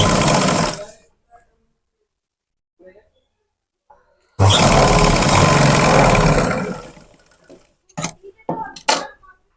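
Electric sewing machine running in two fast bursts, a short one at the start and a longer run of several seconds, as the side seam of churidar pants is stitched, with a few light clicks and handling noises between.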